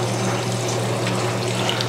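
Heads of freshly made halloumi cheese being lowered into cold water, giving a steady, close rush and splash of water that runs continuously without pause and with no talking.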